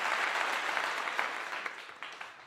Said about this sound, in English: So let's give him a clap for that.